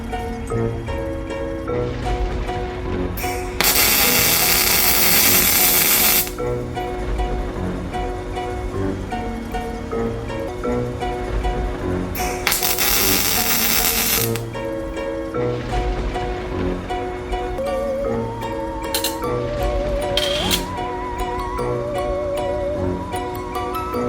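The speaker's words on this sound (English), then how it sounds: "I'm able to tack it in place and then weld it" Steel spider legs tacked and welded onto the spider body, with two loud bursts of harsh crackling arc hiss lasting a few seconds each over a steady layer of background music.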